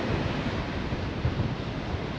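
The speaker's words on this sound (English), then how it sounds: "It's blowing a gale and it's freezing." Strong gale wind gusting along the coast, with surf and heavy microphone buffeting, a steady loud roar that carries on unbroken with no talk.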